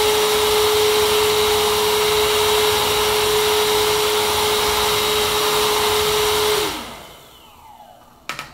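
EGO 56V cordless shop vac sucking up plastic pieces and cardboard debris, a loud steady broadband roar with a constant whine that runs for several seconds, then winds down as the motor shuts off, leaving quiet room sound.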